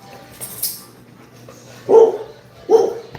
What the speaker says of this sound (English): They're good dogs.